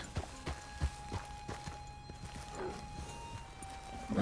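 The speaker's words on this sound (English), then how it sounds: "You're a good horse down in the Heartlands, but you a mite bit too skittish for rough country" Horse hooves in Red Dead Redemption 2, a steady clip-clop of walking hoofbeats, faint and evenly spaced, over a low ambient outdoor hum with no talk.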